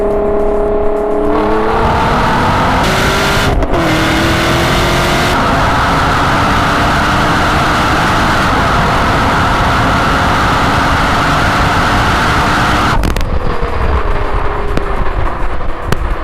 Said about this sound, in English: The last race was a 60 roll, and the GTR did get a bit of a jump start due to the all-wheel drive.